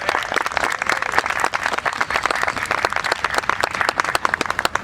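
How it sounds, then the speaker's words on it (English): An audience at a Juneteenth celebration applauds two councilmembers, with dense, steady clapping that stays loud and continuous for the whole stretch. "Please give them a round of applause."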